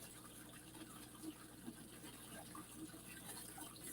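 Hot water gushing steadily from a garden hose under good pressure, a faint continuous splashing rush with no break.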